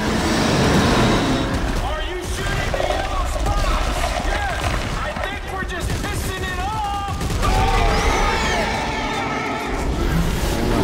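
Gunfire and combat effects fill a co-op session of the video game Dead Space 3, a busy, loud mix of shots, whines and rumbles running continuously with players talking over it.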